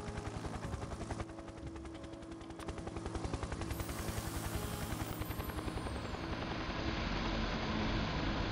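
A helicopter in the video game Factorio gives a steady, rapid rotor chop with a rising whine, loud and continuous throughout with no talking.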